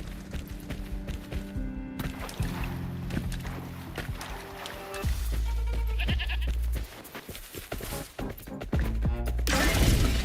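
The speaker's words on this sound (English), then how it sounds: "Thought I heard a sheep." Sheep bleat within the game Wuthering Waves amid layered game music and ambient effects, with the bleating mixed fairly low under the soundtrack.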